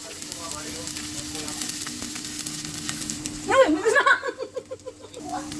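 Onions hitting hot olive oil give a steady fizzing sizzle, then a louder burst of crackling and popping as they land and are stirred near the pan, with no talk.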